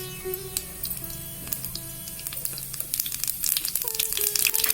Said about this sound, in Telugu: 2 స్పూన్లు పోపు గింజలు వేస్తున్నాను.